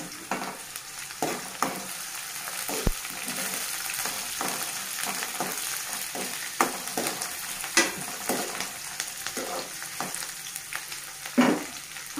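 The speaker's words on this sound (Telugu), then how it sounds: "ఆనియన్ కొంచెం ఫ్రై కావనివ్వాలండి" Onions frying in oil with dried red chilies and green chilies, a steady crackling sizzle running throughout with occasional sharper pops and spoon scrapes, no voices.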